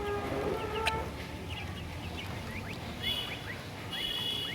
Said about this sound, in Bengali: এই তো দেখুন আমার এই মুরগিটা ডিম পাড়ছে